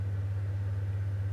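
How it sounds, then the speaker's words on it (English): An aircraft engine drones in Microsoft Flight Simulator, a steady low hum with a faint pulsing rumble, continuous and unchanging throughout with no talking. "The engine is quite loud"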